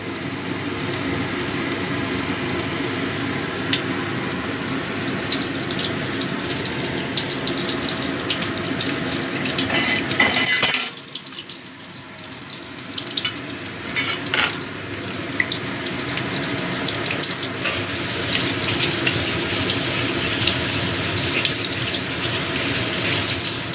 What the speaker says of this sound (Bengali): ফিলেগুলো ব্যাটারে চুবিয়ে তেলের মধ্যে দিয়ে দিচ্ছি।